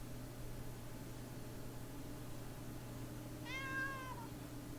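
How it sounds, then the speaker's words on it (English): A house cat gives a single clear meow near the end, over a constant low hum of background noise. "Hi kitty, how are you?"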